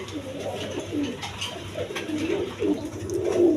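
A pair of Masaldom pigeons, a male and a female brooding two eggs, coo steadily at close range in low, rolling, overlapping calls that continue without a break.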